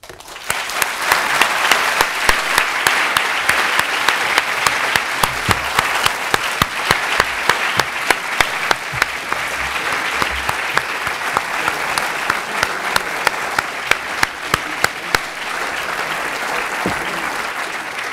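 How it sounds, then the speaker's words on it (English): A lecture audience gives a long, dense round of applause after a talk on Britain and Europe, with a few sharp, louder claps standing out near the microphone and occasional faint voices beneath. "The applause just did"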